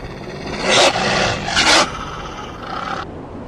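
A wolf howl sound effect from a children's storybook app, heard as two loud, drawn-out rough cries followed by a fainter third, close and alone.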